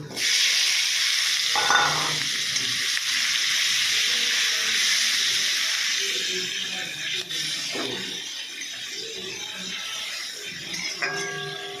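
Onions tossed into hot oil with black cumin, frying in a pan with a steady close sizzle and hiss throughout, a few stirring scrapes and clinks breaking through.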